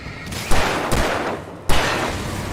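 Gunfire in the video game Alan Wake Remastered: three loud, sharp shots spaced about half a second apart and then a longer gap, each followed by a booming tail, alone with no voices.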